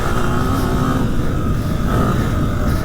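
Honda CRF300F trail motorcycle with a six-speed transmission, ridden slowly in third gear: a steady, loud, close engine drone with a low rumble that holds even throughout, no voices.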